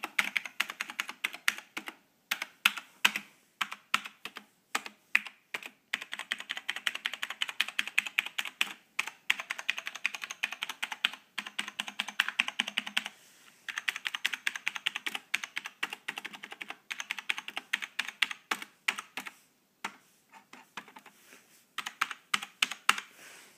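Typing on a Compaq MX 11800 mechanical keyboard with Cherry switches: rapid bursts of crisp, close key clacks in uneven runs, separated by brief pauses, loud and alone with no voices.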